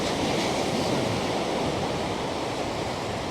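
Ocean waves wash around pier pylons, making a continuous close, loud rushing surge of white water with no voices and no clear breaks.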